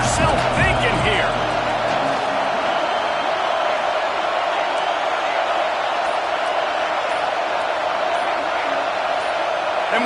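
A loud football stadium crowd roars steadily through a 3rd and goal play, a dense, unbroken wall of noise from start to finish, with a few sharper shouts near the start.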